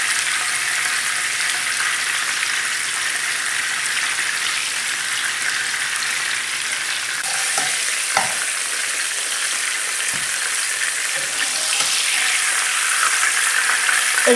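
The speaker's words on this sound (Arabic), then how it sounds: "نقلي الفلفل،" Peppers frying in oil in a home kitchen, a loud and constant crackling sizzle with a few faint clinks partway through.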